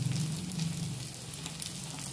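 Garlic dropped into hot oil with ginger in a cooking pan, sizzling in a steady, fairly quiet crackling hiss throughout.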